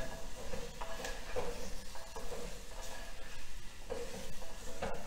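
A spoon stirs a roasted, coarsely ground masala mixture in a handi pot while paneer handi is being prepared, giving soft, close scraping strokes that repeat at a steady pace, quiet and with no talking.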